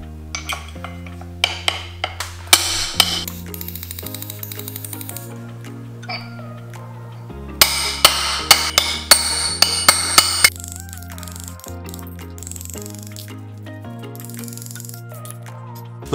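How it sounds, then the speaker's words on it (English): Sharp metallic strikes ring out in quick clusters, a hammer tapping a punch during a BMW E90 differential install, loud and close, with pauses between bursts over a steady mechanical hum. "Next up, get a hammer and a punch."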